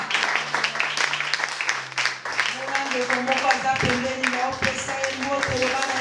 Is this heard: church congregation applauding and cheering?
yes